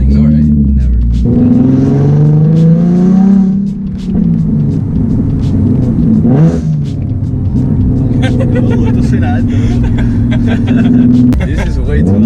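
A modified Z car with a very loud exhaust revs hard, its engine note climbing and falling in sweeping pitches, then settling into a heavy, rumbling idle with further blips, close and loud, with people talking over it.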